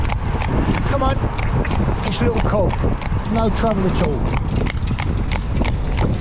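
Barefoot cob horse hooves clip-clop steadily and close by in a quick rhythmic pattern while pulling a cart, while a person speaks briefly over them.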